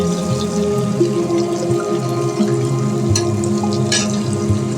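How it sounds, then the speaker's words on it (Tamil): Onions for a large batch of kalyana biryani fry in a pan, giving a steady, bubbling sizzle with a few clinks, heard alongside tonal music. "வெங்காயம் நல்லா வணங்கிடுச்சு"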